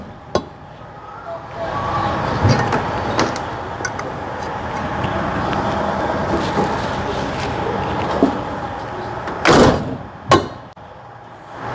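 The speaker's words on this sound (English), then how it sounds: "Make sure the doors are operational and there's no foreign objects" Luggage compartment doors on a Prevost coach bus being opened and shut during a pre-trip inspection, with sharp latch clicks and a couple of loud thuds over steady outdoor engine rumble.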